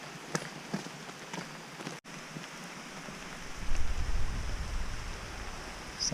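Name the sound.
rain falling on the Appalachian Trail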